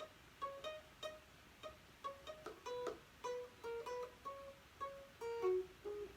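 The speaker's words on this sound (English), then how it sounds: "if you were to unplug my guitar, it would just sound like this." An unplugged electric guitar picked lightly, producing a quiet, thin run of distinct plucked notes in a steady rhythm, close and alone with no talking.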